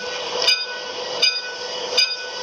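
Steady rumble of a video-game train with a tonal hum, broken by three sharp clacks at regular intervals, like wheels crossing rail joints.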